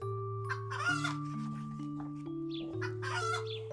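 A hen clucks and squawks in excited, uneven bursts as it escapes and flutters about a dining table, close and fairly loud over steady background music.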